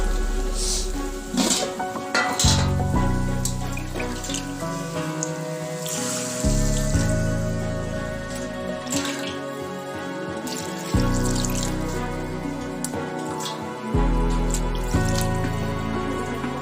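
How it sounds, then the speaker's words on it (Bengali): Water poured into a pan of sautéed potatoes while cooking an egg curry, a steady close splashing and trickling with dripping accents and changing tone, running alone without talk. "আলুটা কষা হয়ে গেছে, এবার আমি জল দিয়ে দেবো।"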